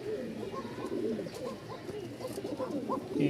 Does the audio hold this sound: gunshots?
no